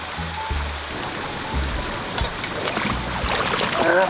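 Clear mountain river flowing beside a riverside campsite near Cabangan, Zambales, a steady close rush of water running without pause, with a few faint knocks and splashes near the end.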